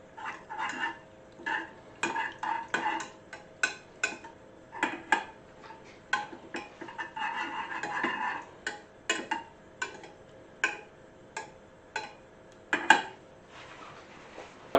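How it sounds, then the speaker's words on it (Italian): Butter is stirred into pastiera filling in a pot, with a spoon clinking and scraping against the sides in quick, irregular bursts close by. "Mescoliamo fino a che si scioglie il nostro burro all'interno del composto e si mescolano bene tutti gli elementi"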